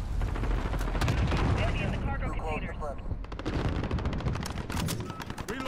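Gunfire in the video game Call of Duty Modern Warfare, a dense run of rapid shots and booming bursts that continues throughout, loud and close, with a voice and game sounds in between.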